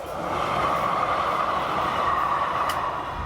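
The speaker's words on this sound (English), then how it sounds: "The student waited for the first train to pass," A train rolls steadily through a street-level railroad crossing, a loud, continuous rumble of wheels and cars that holds for the whole stretch with a brief high squeal near the end.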